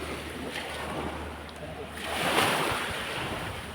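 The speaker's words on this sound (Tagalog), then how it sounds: "Medyo may mga basura ngayon ng ang bis gawa ng malakas ang alon." Heavy, strong ocean surf washes in steadily at a Japanese island with wind rumbling over it, swelling to a louder crash of waves midway before easing slightly.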